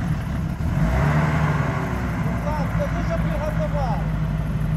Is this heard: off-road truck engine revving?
yes